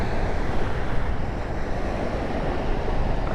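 Steady roar of surging waves and gusting wind at the Laurel baywalk during Typhoon Kristin, a dense, constant wash of surf and wind noise buffeting the microphone, with no voices.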